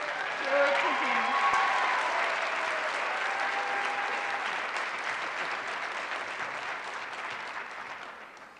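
A commencement audience applauds and cheers for a science award recipient: dense, sustained clapping filling the room, strongest at the start and easing slightly over several seconds, with a few faint voices and whoops mixed in.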